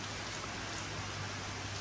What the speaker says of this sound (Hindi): ये देखिए झमाझम पड़ती हुई बारिश।